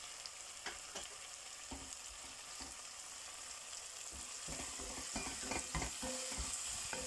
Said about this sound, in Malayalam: നല്ലപോലെ ഒന്ന് വഴറ്റി കൊടുക്കാം